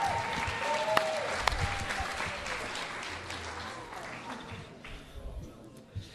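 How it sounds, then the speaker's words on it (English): An audience at the Charleston Urban Works Urbanite Awards applauds for the Employees of the Year, a sustained wash of clapping with a few whoops that gradually thins and fades out. "One more round of applause for our Employees of the Year"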